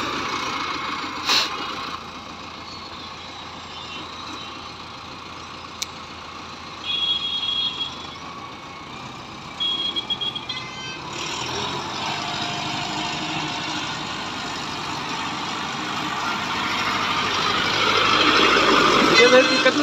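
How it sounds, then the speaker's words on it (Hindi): A Mahindra Novo 655 DI 65 hp tractor engine runs steadily throughout, a continuous rumbling drone that swells louder toward the end, with a few brief sharp clanks and bursts of sound along the way. "कितना शानदार चल रहा है ट्रैक्टर"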